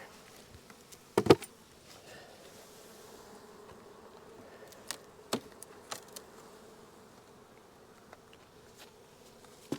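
A low, steady drone of honeybees around a hive hums throughout at a moderate distance, with a few sharp knocks and clicks popping up now and then.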